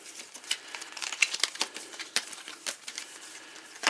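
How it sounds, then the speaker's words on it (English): Playing cards shuffled by hand for the 100 Swords card game, heard as a quick run of soft, crisp riffling and tapping bursts, close and fairly quiet with no talk over them. "I have to shuffle up the remainder of my cards"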